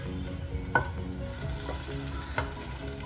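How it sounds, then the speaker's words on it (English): Garlic fries in oil in a pan with a steady close sizzle, broken by a couple of sharper stirring clicks as it turns golden, with no voices. "the garlic continues to cook. The garlic is turning golden"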